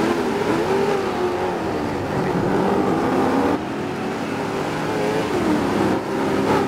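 Rally car engine in the racing game DiRT 4, revving hard and climbing in pitch through the gears, loud and continuous with a brief dip midway before accelerating again.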